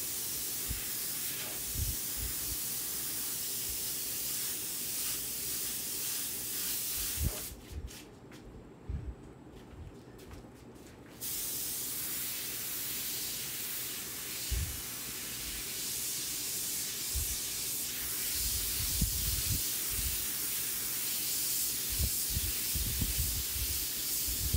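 An airbrush sprays paint onto a lion painting in a close, continuous airy hiss, broken by a brief pause partway through, with small clicks and handling knocks along the way.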